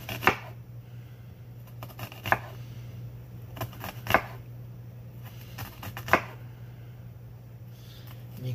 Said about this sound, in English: And you cut it like this, the onion.